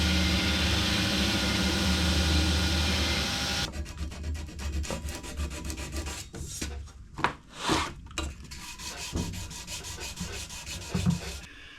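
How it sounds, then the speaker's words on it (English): A sword's bevels being ground on a belt grinder: a loud continuous abrasive rasp for a few seconds, then quieter irregular scraping and rubbing strokes with brief louder swells. "So I'm going to do a shallower grind now and take it down to maybe this blue mark there."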